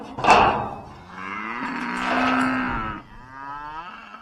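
Cattle moo loudly and close by, with one short call followed by a long, drawn-out low bellow and a fainter moo at the end, as cows and calves are let out onto grass.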